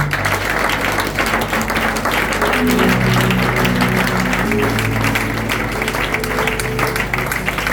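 A congregation at a church youth convention claps and cheers loudly and continuously, with a sustained tonal hum of music or voices running underneath.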